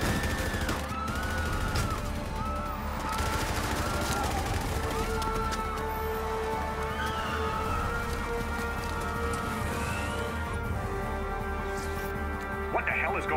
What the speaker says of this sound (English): Gunshots reported in the plaza.